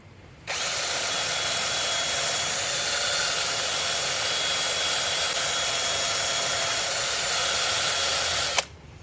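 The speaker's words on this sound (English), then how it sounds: "So I'm just cleaning up the flop wheel" A power drill fitted with a flap wheel whines steadily while cleaning the lug nut pockets of an aluminum Jeep XJ wheel, starting abruptly, holding a loud continuous abrasive hiss for about eight seconds, then cutting off.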